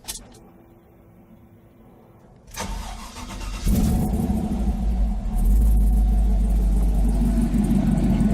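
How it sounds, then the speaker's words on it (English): A Chevy 5.3 V8 with a Texas Speed Stage 2 cam, MagnaFlow mufflers and an L83 transmission fires up after a quiet pause, settling into a loud, deep, steady exhaust rumble that swells louder near the end. "Listen to the exhaust."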